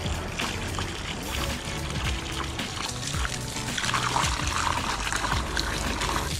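Water splashes and trickles steadily as it is poured over potted plants, a dense continuous gurgle that grows slightly louder toward the end.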